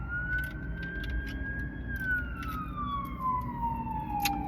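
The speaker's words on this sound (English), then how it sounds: "You hear the sirens?" An emergency vehicle siren wails steadily, its single tone rising and then slowly falling over a low rumble of road noise, heard from a moderate distance.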